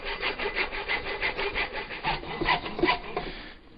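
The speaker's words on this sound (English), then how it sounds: "My hacksaw blade is starting to wander a little bit into the edge of the PVC end cap" A hacksaw cuts through a PVC end cap in steady back-and-forth strokes, a close, rhythmic rasping that slows and fades at the end.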